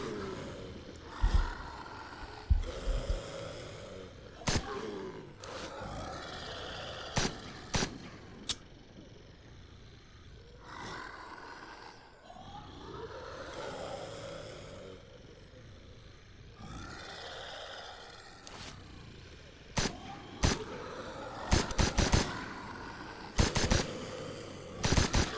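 Gunfire in the zombie survival game Surroundead: sharp shots and quick bursts of rapid fire ring out irregularly over a low, growling ambient bed, with some grunts or roars mixed in.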